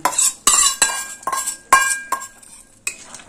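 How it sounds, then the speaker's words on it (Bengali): A metal spoon clinks and scrapes around a pot as fried shrimp are stirred into a mixed vegetable curry, with sharp, irregular knocks close up and quiet gaps between them. "চিংড়ি মাছগুলো সবজির সঙ্গে খুব ভালোভাবে মিশিয়ে দিলাম"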